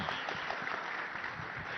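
Brief burst of audience applause at a summit hall, a dense steady patter of clapping with a busy crowd murmur mixed in.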